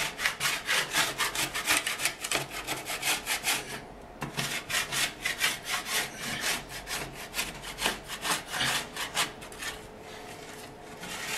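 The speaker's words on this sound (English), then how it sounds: "Just clean it off. That's where this drywall tool" A drywall tool scrapes built-up clay off the top of a sculpting stand in quick, repeated rasping strokes. The sound is close and steady, with a short pause partway through before the scraping resumes.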